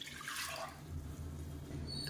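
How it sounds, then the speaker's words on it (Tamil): Water is poured into a cooking pot of washed toor dal, a faint steady splashing and trickling that runs throughout with no talk. "இப்போ தேவையான அளவுக்கு தண்ணி சேர்த்துக்கலாம்."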